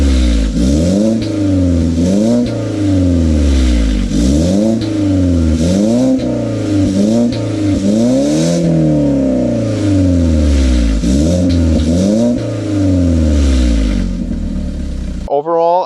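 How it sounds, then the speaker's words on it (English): Car fitted with a Mazdaspeed catback exhaust and an exhaust silencer revs repeatedly, the engine climbing and falling in about ten rhythmic throttle blips, loud and close, with no talking. "So this is what it sounds like with the exhaust silencer."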